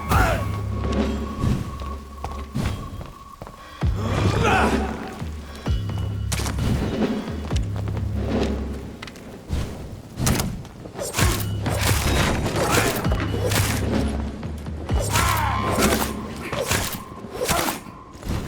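Fire attacks in the action game Vampyr land with heavy bursts, booms and thuds in rapid repeated volleys, loud and close, with game noise throughout.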